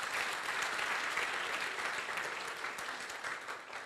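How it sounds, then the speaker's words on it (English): An audience claps at a ceremony presenting cheques to women farmers, a sustained wash of many hands at moderate distance that slowly thins toward the end. "Please, can you clap for our mother?"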